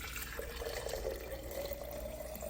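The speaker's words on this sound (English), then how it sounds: "So let's pour some of the milk we just made." Homemade milk poured into a container for chia seed pudding, a faint continuous liquid trickle and splash lasting a couple of seconds, no talking.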